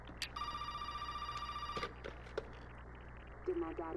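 A telephone rings with a steady electronic trill for over a second, then cuts off, followed by faint handling clicks and rustles and a short beep-like tone near the end.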